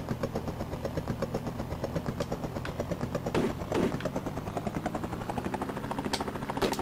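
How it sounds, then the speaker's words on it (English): A helicopter in the Commodore Amiga game Rescue, its steady chopping rotor drone pulsing evenly and continuously at moderate volume, with no voices over it. "So he's got the helicopter"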